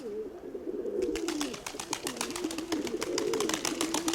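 Pigeons in a loft, including a speckled hen, cooing in repeated low rolling phrases close by, with faint scratchy rustling and light clicks behind them.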